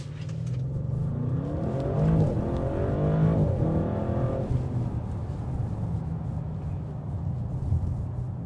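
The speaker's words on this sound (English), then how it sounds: "The exhaust note that filters in is amazing." 2026 Audi RS7 Performance with a 621 hp engine accelerating hard, a deep exhaust drone rising in pitch through several gear changes, heard from inside the cabin and fairly steady throughout.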